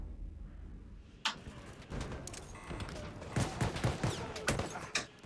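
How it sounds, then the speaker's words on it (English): Sporadic gunfire in the Battlefield 1 video game crackles through a busy battle mix, with sharp single shots and short bursts, fairly loud against constant background noise. "Where am I getting shot from?"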